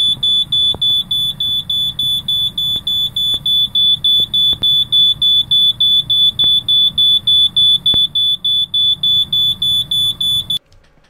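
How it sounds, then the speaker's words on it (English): A carbon monoxide detector in an RV travel trailer sounds off with loud, rapid, evenly spaced piercing beeps that repeat steadily for about ten seconds before cutting out, alone without talk. "This is actually the carbon monoxide detector."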